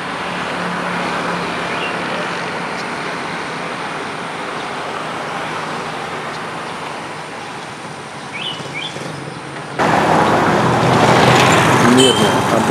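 Car engine passing along a street in Thailand, steady road rumble with distant traffic throughout and a louder, closer surge near the end; faint birdsong may sit in the background.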